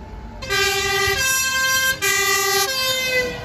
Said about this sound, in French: Juste là-bas derrière, c'est un camion de pompiers.